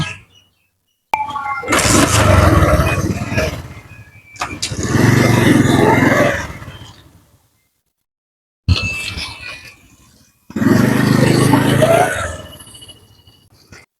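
A motorcycle engine starts and revs in several loud, close bursts, separated by short silences, during a trip between mango orchards in Rajshahi.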